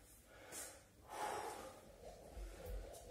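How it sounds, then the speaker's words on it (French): A person out of breath during a home workout takes heavy, rasping breaths and snorting exhales in a few bursts, close and quiet, without speech. "moi je commence un petit peu à être essoufflé"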